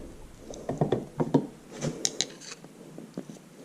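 Screwdrivers pry and scrape at a belt pulley drive part on an IHC Farmall Super MTA tractor, giving a series of close, sharp metallic scrapes and clicks in irregular bursts with short pauses between them.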